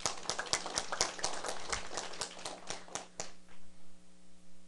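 An audience at a lecture claps in a sparse, fairly quick run of distinct hand claps for about three seconds, then stops, leaving faint room noise and hum.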